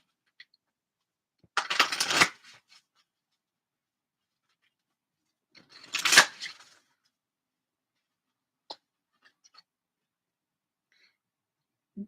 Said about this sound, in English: I want to get some cards from my new Oracle deck, the Magic of You Oracle.